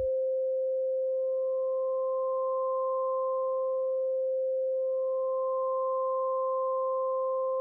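Steady electronic tone from a Korg Opsix synth with one operator amplitude-modulating another at the same ratio, a pure sustained pitch joined by a higher partial that fades in, briefly dips and returns, constant and clean with no voices.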